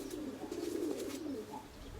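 A female pigeon coos softly in a loft, a low murmuring call repeated over a couple of seconds, faint and alone without talk.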